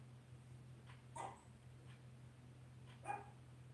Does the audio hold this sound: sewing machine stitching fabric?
no